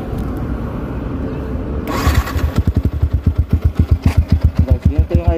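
A motorcycle engine cranks and fires up, then settles into a close, loud, steady thumping idle with a regular pulse, fitted with a fiber-packed exhaust pipe; quiet background murmur before the start.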